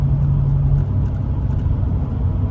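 A truck engine cruises in V4 cylinder deactivation mode, a steady low rumble and road drone heard from inside the cab, continuous and fairly loud with no talk.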